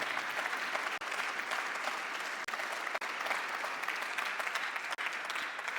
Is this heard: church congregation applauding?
yes